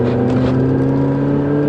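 Mini engine held at a steady, loud drone with strong low harmonics, a sustained close-up rev on a B-road car with no talking over it.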